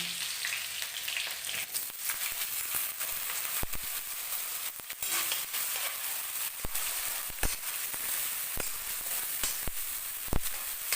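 Chopped onions frying in a pan for chilli fish, a steady moderate sizzle broken by sharp clicks and scrapes of stirring.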